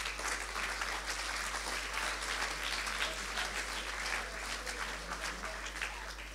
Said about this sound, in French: vous pouvez applaudir le Seigneur.